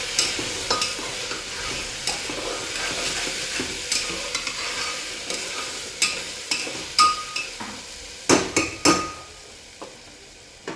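Salted ingredients being sautéed in a pan for bajra daliya khichdi, a gentle sizzle under repeated spoon stirring, with sharper clinks and scrapes against the pan growing more frequent toward the end.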